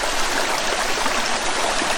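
Waterfall and creek water in the Coopers Creek area rush in a steady, dense, broadband roar that stays even throughout and close, with no voices.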